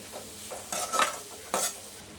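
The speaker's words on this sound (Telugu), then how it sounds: "గోపి కూడా కొంతసేపు వేయించుకోవాలి." Cauliflower florets frying in a pan with spices, stirred in a few scraping, sizzling strokes with short pauses between, close up with no talking.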